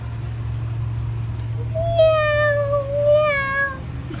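A person imitates a screaming cat with two drawn-out, wavering meow-like cries over a steady low hum, fairly loud and close.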